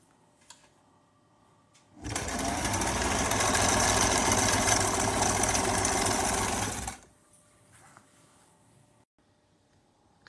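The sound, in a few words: sewing machine stitching shalwar fabric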